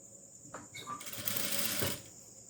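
A sewing machine stitches through a layered patti seam in one short, quiet run of rapid needle clatter lasting about a second.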